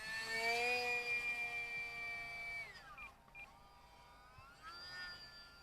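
An E-Flite UMX Timber X RC plane flies overhead, its small electric motor giving a thin whining drone that sweeps down in pitch as it passes, dips and then rises again, heard at a moderate distance outdoors.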